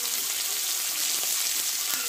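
Tomato and ginger paste frying in a hot pan gives a steady, loud, close sizzle that runs unbroken and without pause.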